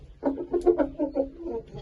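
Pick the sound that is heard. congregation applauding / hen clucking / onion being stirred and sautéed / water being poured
hen clucking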